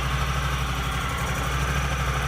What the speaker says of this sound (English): we're going to reach inside of our machine and fire it up to make sure that we don't have any leaks in the exhaust